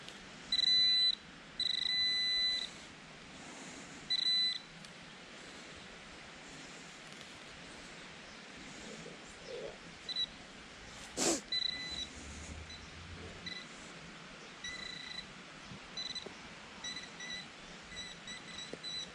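A metal detector sweeps outdoors over a buried target, giving short high-pitched electronic tones in several brief bursts, close and moderately loud, with faint rustling between signals.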